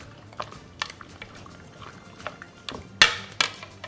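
Raw shrimp get tossed and stirred in a bowl of wet dredge for frying, giving soft wet squelches and a few sharper clinks against the bowl, close and sporadic with no talking.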